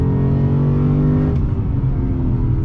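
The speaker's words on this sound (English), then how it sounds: "On throttle, yeah! Woo! The acceleration, the sound" A 2020 Lexus RC F Track Edition's engine drones loudly and steadily as it accelerates on a track, a deep sustained rumble with rising harmonic tones.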